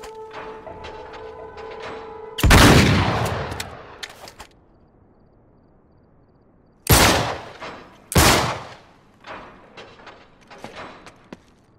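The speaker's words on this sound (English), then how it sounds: "Back up, I'll shoot the lock." A gunshot blasting a lock in Uncharted 3, one loud sharp report with a ringing decay, followed later by two more heavy bangs and a few fainter knocks and clatters in an otherwise quiet space.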